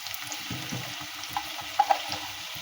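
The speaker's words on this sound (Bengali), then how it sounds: "আর দেখো পেঁয়াজ ভাজা চলছে।" Onions frying in hot oil with panch phoron spices, a soft continuous sizzle heard up close, with a few light stirring taps and small pops and no talking.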